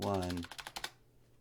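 A short, quick burst of several computer keyboard keystrokes follows a speaking voice, close and fairly soft, then fades to quiet.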